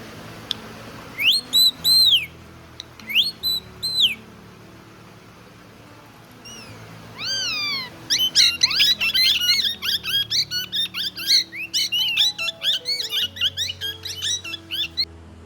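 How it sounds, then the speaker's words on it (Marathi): Pet parrots kept at a house in Konkan give repeated shrill, whistling squawks, sparse at first and then rapid, overlapping chatter, heard close over a low background hum. "तर मित्रांनो, पोपट बघा किती बाळगलेत."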